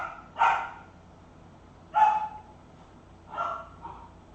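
A dog barks three times during play with its toys, each bark a short, fairly close burst spaced about a second and a half apart, with quiet room tone between them.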